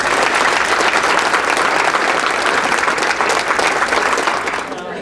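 An audience gives a speaker a full round of applause, loud and continuous, easing off slightly in the final moment, with some talk mixed in.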